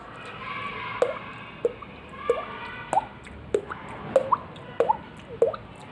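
Mouth-made water drip imitation, a finger flicked against the cheek while puffing air; about ten sharp, hollow plinks come at a steady pace of roughly one every half second, close and clear over a faint hiss.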